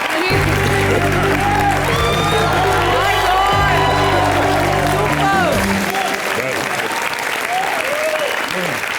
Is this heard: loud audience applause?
yes